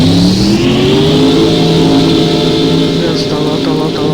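Loud car engine revving steadily as the throttle is held, with a rising harmonic whine and a constant close-up roar throughout, while a voice speaks briefly over it.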